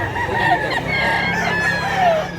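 A rooster for sale crows amid other fowl, a drawn-out call near and fairly loud over steady background noise, with faint clucking around it.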